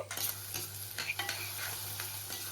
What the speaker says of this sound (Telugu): ఉల్లిపాయలు ఇప్పుడు మంచి కలర్ వచ్చినంత వరకు బాగా ఫ్రై చేసుకోవాలి.